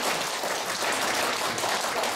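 Applause from an audience of elderly residents at a hospital year-end talent-donation performance, a steady dense patter of clapping filling the whole stretch without a break.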